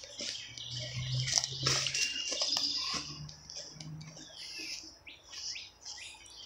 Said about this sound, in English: The birds, the chickens, the ducks.